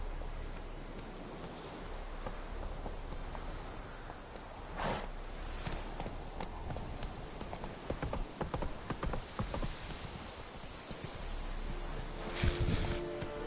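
Roach, the horse in the video game The Witcher 3, running with a steady clip-clop of hooves over a soft ambient bed and faint rain-like patter, with a few sharper thumps and a brief whinny-like burst near the end.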